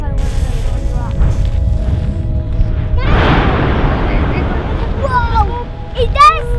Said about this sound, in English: There were so many loud explosions.